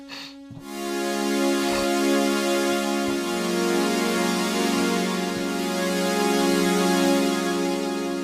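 Two layered synth saw tones from a Roland Fantom EX with the JD-800 upgrade drone together, one an octave below the other, a thick buzzing sustained chord held steadily for several seconds.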